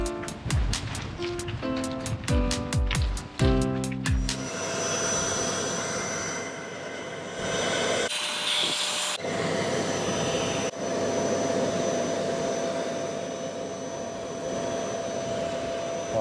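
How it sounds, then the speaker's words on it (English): A vacuum cleaner sucks a broken spark plug fragment out of an engine cylinder on a Ford ST170 engine in a Mk1 Escort: a steady, loud whooshing roar that runs on after a few clanks. "hoover that bit of spark plug out of the cylinder"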